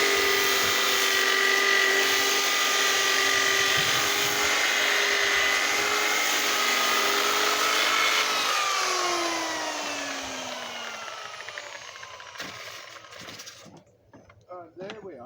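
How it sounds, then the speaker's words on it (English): A power sander works steadily on a wooden stool, giving a sustained whirring buzz that winds down and falls in pitch. A few clattering knocks follow as it stops. "I just need to complete this little bit of sanding"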